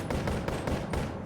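Rapid gunfire rings out in the Boneworks VR game, a dense, loud volley of overlapping shots with no pause across the brief moment.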